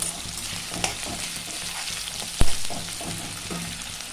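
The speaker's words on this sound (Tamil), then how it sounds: "பாருங்கள், வெங்காயம் எப்படி நல்லா வதங்கிட்டு. இந்த டைமில் வெண்டைக்காவும் வெங்காயம் வதங்கிடுச்சு." Onion and okra sautéing in a pan for an okra tamarind curry, a steady close sizzle with light stirring scrapes and one sharp clatter partway through.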